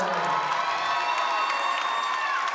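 A crowd in a high school basketball gym gives a standing ovation, a continuous, bright wash of cheering and whooping that fills the whole stretch without letting up.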